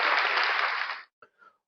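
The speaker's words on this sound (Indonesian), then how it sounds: "Tepuk tangan untuk Densus 88." Audience applause for Densus 88, Indonesia's counter-terrorism squad, a dense burst of clapping lasting about a second that cuts off abruptly, followed by a couple of faint short sounds.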